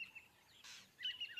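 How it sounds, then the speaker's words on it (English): Insect-eating birds at a lion kill carcass, giving faint, high chirps and short tweets in scattered bursts against quiet background. "The sixth day, insect-eating birds find the carcass."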